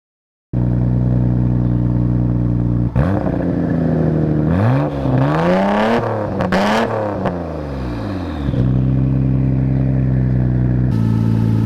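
A Nissan Skyline GT-R R32 idles loud and close, then revs repeatedly in rising and falling sweeps that build to a sharp high peak before it drops back to a steady idle and one final blip.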